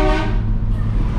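A loud, sustained deep ship horn fitted to a Camaro car, with a rich harmonic tone, steady for over a second without a break, close by.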